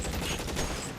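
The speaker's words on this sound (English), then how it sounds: "Oh, he's got a Tommy gun." Tommy gun firing in the video game LA Noire, a dense one-second burst of rapid automatic gunfire, loud and continuous with no talking.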